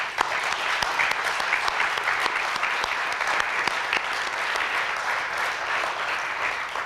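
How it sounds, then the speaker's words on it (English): Applause from an audience at a political nomination speech, steady, even clapping of a moderate crowd lasting several seconds without a break. "Yes, we can clap for that"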